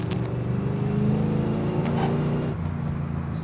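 A Foxbody Mustang drift car with a 5.0L engine revving while driving, a steady loud engine drone throughout with a slight shift in tone partway through and no talk.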